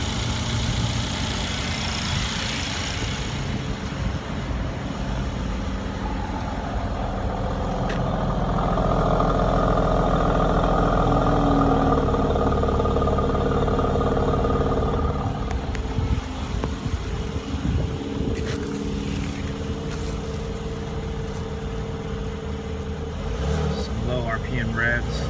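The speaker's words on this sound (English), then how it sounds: "There is your 3-liter V6 bi-turbo." A 2017 Mercedes-AMG C43 Coupe with a 3-liter V6 bi-turbo engine idling, a steady low rumble running throughout with a brief swell in the middle, captured close by.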